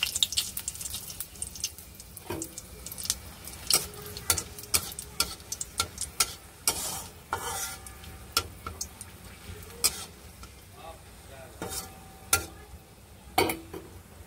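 Cumin seeds, dry white chillies and bay leaves tempering in hot oil, with scattered sharp crackles and pops over a soft, steady sizzle.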